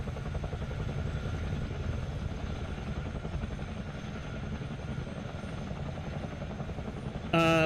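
Steady rotor and turbine drone of a Chinook CH-47D helicopter in the flight simulator game MSFS 2020, continuous and fairly loud throughout, with a brief tonal sound joining at the very end.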